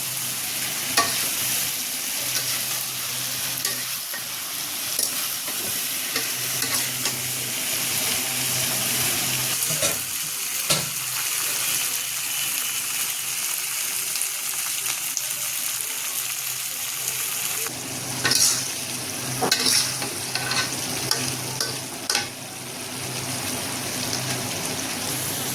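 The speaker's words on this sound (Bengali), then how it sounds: "এবার দিয়ে দেব সয়াবিনগুলো। এবার কিছুক্ষণ এভাবে কষাবো।" Potatoes and soybean chunks stir-fried in a pan, a steady close sizzle with scattered scraping and stirring knocks and a brief louder splash of frying near the end, no voices.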